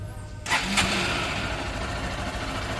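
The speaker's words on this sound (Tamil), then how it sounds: "வண்டி ஸ்டார்ட் பண்ணி காக்கிறேன். இன்ஜினோட சவுண்டு மட்டும் பாருங்கள்." A 2025 Honda Unicorn motorcycle engine starts with a sharp burst, then settles into a steady, fairly quiet idle that hums on close by without any talk.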